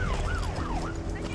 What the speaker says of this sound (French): Elle arrive, l'ambulance!